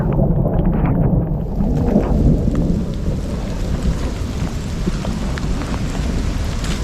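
Thunderstorm that blew up suddenly over a dam during a fishing trip, with a steady roar of heavy rain and deep rolling thunder filling the whole stretch loudly, with no talking.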